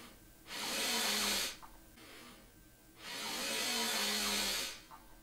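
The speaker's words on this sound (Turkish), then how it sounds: "hem nefes çekerken hem de su kabarcıkları oluşturdum" Two long breathy hissing bursts of air, each about a second or more, with bubbling water audible during inhalation through the nose, as in kaval circular-breathing practice; close and fairly quiet, no speech.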